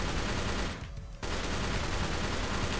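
Dense, rapid gunfire from non-reloading guns in a zombie video game, loud and continuous apart from one brief dip near the middle.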